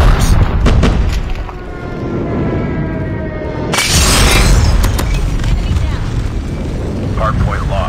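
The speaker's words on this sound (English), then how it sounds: "Enemy airstrike incoming." Heavy booming explosions from an enemy airstrike in a Call of Duty hardpoint match on the Shipment map hit close and loud, with game voice callouts and battle noise throughout.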